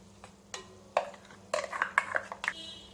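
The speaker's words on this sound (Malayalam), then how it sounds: "ഇതിലേക്ക് ഇനി നമുക്ക് നമ്മൾ അരച്ചു വെച്ചിരിക്കുന്ന അരപ്പ് ചേർക്കാം" Ground coconut paste goes into a pot of jackfruit curry, with several sharp clinks of a spoon against the vessel and soft stirring scrapes, close and fairly quiet, no talking.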